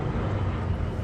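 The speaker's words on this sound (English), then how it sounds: "here comes a military plane," A military jet flying over the ocean near a coastal garden produces a steady, loud broadband roar with no gaps and no talking.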